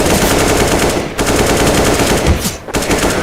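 Rapid automatic gunfire in the game CS:GO, loud and close, in two dense bursts with a short gap between them.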